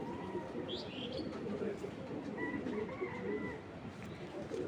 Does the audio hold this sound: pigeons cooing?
yes